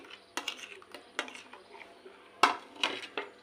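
Rasmalai is lifted onto a plate at close range, with a run of light clinks and scrapes of a spoon against the dish and no talking.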